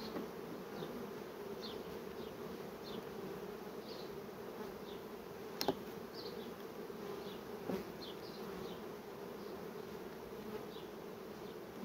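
A steady, dense hum of many honey bees buzzing together at a hive carries on throughout, with a couple of sharp clicks along the way.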